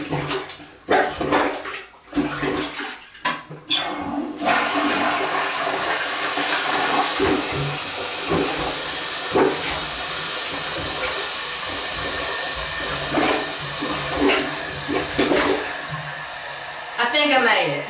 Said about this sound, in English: First order of the day, unstopping the toilet.